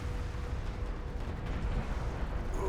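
Missile barrage explosions in the Deserts of Kharak strategy game hit a carrier, a rumbling, continuous run of deep blasts and bursts, loud and dense, with a brief higher tone near the end.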